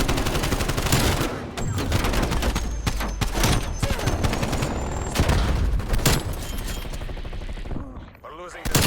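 Gunfire in the Call of Duty Black Ops video game: loud, rapid automatic bursts and heavy shots crack in quick succession, close and dense, with brief gaps and a final sharp report.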